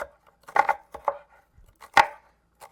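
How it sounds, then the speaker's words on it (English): A knife slices food thin on a cutting board, giving a handful of crisp, separate chops in an uneven rhythm. The cuts are close and distinct against near silence, with no voices. "So I'm just going to go ahead and slice these up very thin."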